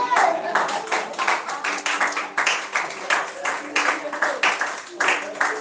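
An audience claps at a talk on marriage, a steady, dense patter of hands sustained throughout, with a voice speaking over the applause.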